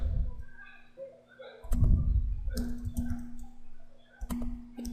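Computer keys click as HTML code is typed, scattered close taps and short runs of keystrokes over a steady electrical hum, no talking.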